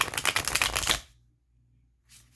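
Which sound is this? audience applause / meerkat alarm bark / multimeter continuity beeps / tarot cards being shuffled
tarot cards being shuffled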